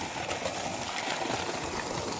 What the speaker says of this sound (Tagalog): Malakas yung tubig niya